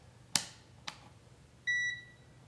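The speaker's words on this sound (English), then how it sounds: "the multimeter now set to the continuity setting, or set to resistance with an audible alarm" A multimeter on its continuity setting, used to test the wiring of a 3-way light switch, gives a single short, clear electronic beep after two faint clicks of the probes, all close and alone in a quiet room.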